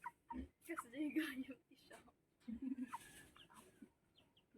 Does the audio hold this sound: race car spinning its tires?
no